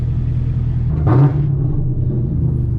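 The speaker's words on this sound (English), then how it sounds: "Oh, that downshift sound good, y'all." Deep, steady exhaust rumble from a Camaro ZL1 on a night drive, with a short louder blip midway as it downshifts, then a return to the low drone, heard from inside the car.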